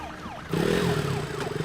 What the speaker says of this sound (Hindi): अभी अभी एक एम्बुलेंस ने सिटीपुरम जंक्शन क्रॉस किया है।